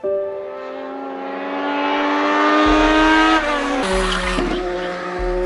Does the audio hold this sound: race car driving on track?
yes